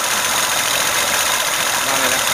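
An Evinrude outboard engine idling at about 800 revs, a steady close mechanical drone with a rough, even texture and no change in pitch across the short stretch.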